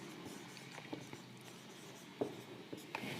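Marker or chalk writing the word festivals on a board during an English lesson, faint scratchy strokes and light taps in short bursts against a quiet room hum.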